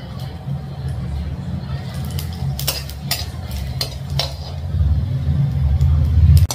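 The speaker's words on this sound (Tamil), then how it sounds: "வரமிளகாய், பூண்டு, இஞ்சி எல்லாமே வந்து போட்டு நம்ம வதக்கிக்கிறோம்." Dried red chillies, garlic and ginger sauté in a pan, giving a steady low rumble with soft sizzling, while a utensil scrapes and clinks against the pan throughout.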